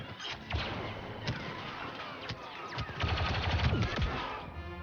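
Rapid incoming gunfire in Star Wars Battlefront on the Dark Side battle scenario, with continuous loud bursts of blaster shots crackling throughout, dense and overlapping, with some closer sharp cracks among more distant fire.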